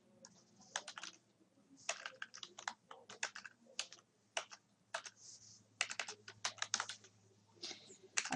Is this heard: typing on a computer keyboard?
yes